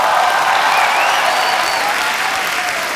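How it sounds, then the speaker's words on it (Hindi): Loud, sustained applause from a large studio audience on a comedy show, welcoming a guest, steady throughout with no talking. "तो आप सबकी जोरदार तालियों के बीच बुलाना चाहूंगा हमारे मुन्ना माइकल"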